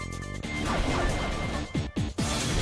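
A heavy crash lands in a Pokémon Battle Revolution fight, a loud impact followed by a couple of quick whooshing hits and clattering game effects, close and punchy, with no voices.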